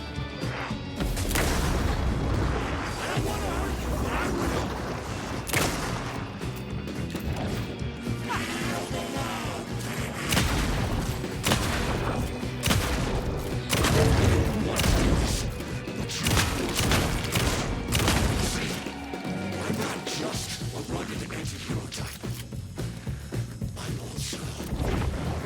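Gunfire in Alan Wake 2's Night Springs DLC: a long stretch of loud, repeated sharp shots and heavy booms, irregularly spaced over a dense, rumbling game soundscape.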